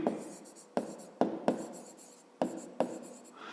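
Pen strokes scratch across paper as a maths solution is written out by hand, with several sharp taps and steady scribbling in a quiet room, no voices.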